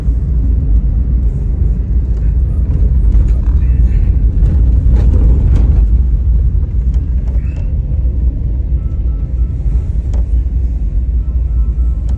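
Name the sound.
car driving in to park at restaurant at night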